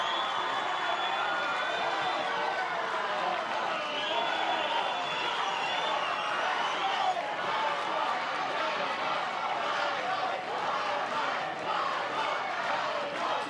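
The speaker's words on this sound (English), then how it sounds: "this crowd on both sides has been absolutely incredible" A Little League baseball game crowd roars continuously in the stands, a dense wash of cheering and shouting voices with an announcer talking over it.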